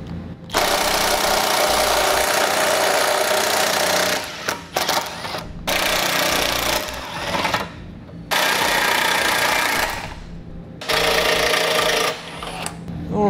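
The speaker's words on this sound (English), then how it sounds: "So I'm going to take a 13 millimeter socket." Rapid rattling bursts of a power tool with a 13 mm socket, backing bolts out of the bumper and trailer hitch of a 2017 Volkswagen Golf, loud and close, in several long runs separated by brief pauses.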